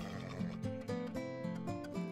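A horse neighs in Minecraft, a drawn-out whinny with stepped pitch over a steady tonal game backdrop, fairly quiet and without speech.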